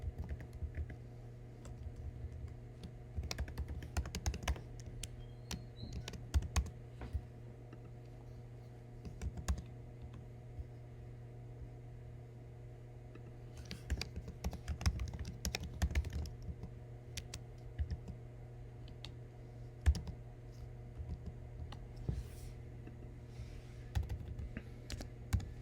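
Someone types on a computer keyboard while entering event records: quiet, irregular bursts of key clicks over a steady low hum, with short pauses and no talk.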